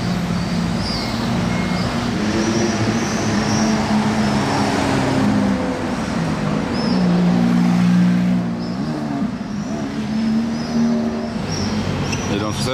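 A Ferrari 12-cylinder Spider drives past in Monaco, its engine a steady low rumble mixed with road traffic noise, with people talking over it throughout.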